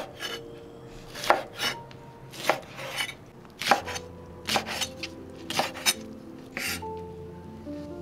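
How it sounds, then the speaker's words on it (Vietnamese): Knife chopping pickled mustard greens on a cutting board, a series of crisp, irregular close-up chops with brief pauses, each stroke distinct and fairly loud. "Mình sẽ cắt nhỏ vừa ăn ha"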